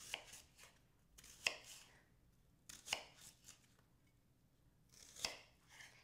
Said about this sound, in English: cut it in half like this and then slice it horizontally